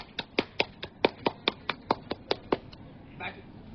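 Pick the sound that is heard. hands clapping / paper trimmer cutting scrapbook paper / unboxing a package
hands clapping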